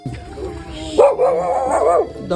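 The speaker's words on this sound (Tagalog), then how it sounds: "Grabe nga pala yung aso dito kala RJ, takot sa pangit." A dog barks and yelps in a short, strained burst of several close, loud calls, with a whiny, whimpering edge between them.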